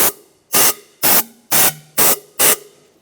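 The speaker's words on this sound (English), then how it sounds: "Just take some compressed air." Compressed air blasts in six short, sharp hissing bursts at an even half-second rhythm into the intake of a 1996-2002 Toyota 4Runner, loud and close with near silence between bursts.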